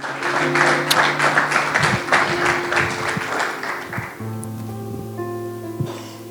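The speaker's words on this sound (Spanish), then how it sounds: "Dale un aplauso al Señor, hermano." A church congregation claps in a brisk burst of applause for several seconds, fading out as sustained organ or keyboard chords take over and carry on alone.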